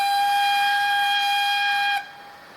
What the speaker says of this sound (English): F21's a long whistle